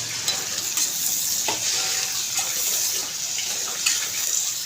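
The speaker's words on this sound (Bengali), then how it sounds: "তো দিয়ে এবার কষে নিই" Turmeric, chili, cumin and coriander powder with salt sautéing in hot oil for a fish curry: a continuous bright sizzle with occasional scraping stirs of a spatula in the pan, close and steady.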